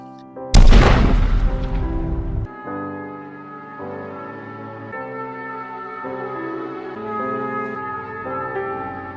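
A single loud pistol shot cracks out, fired on a street, followed by sustained dramatic music with no voices.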